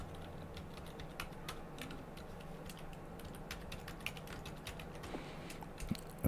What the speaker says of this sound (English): I was just busy typing